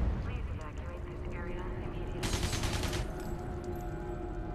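Explosions and gunfire blast in the video game Alien Breed, a dense rumbling barrage with a sharp crackling burst in the middle, loud and continuous, with someone talking over it at times.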